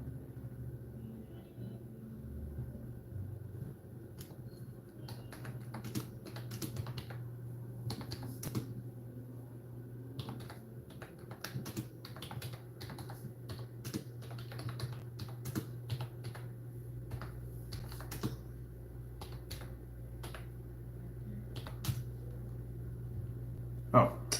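Computer keyboard typing in bursts of quick clicks, moderately near, over a steady low hum and rumble, with intermittent talk.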